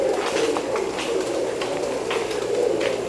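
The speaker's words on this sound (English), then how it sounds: "You can look at this capuchin pigeon." A capuchin pigeon at a bird show coos steadily in a low, throaty rolling tone, close and continuous, with faint higher chirps from other birds in the background.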